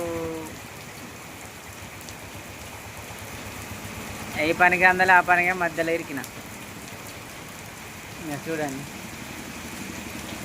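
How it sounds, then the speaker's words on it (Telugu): Steady heavy rain hiss in Chennur fills the background throughout, with a person talking briefly over it in the middle. "చెన్నూరులో మస్తు వర్షం కొడుతుంది"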